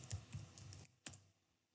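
Several quick keystrokes tap on a computer keyboard, soft and close in a short burst, followed by one sharper key press before quiet.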